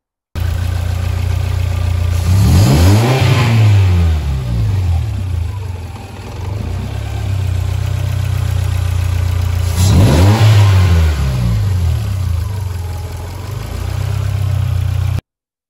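A Ford Fiesta Zetec S car engine with a stalling fault on start-up revs up twice, rising and then sagging as the revs fall off and the engine bogs down. It stays loud and close between the revs, with a steady running drone.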